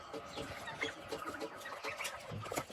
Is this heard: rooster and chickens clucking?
yes